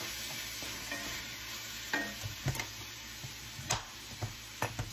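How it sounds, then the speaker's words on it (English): Shrimp for risotto cooks in a pan, giving a steady low sizzle with scattered clicks and knocks of stirring, close and moderately quiet, with no talking. "it's really hard to hear over the food cooking"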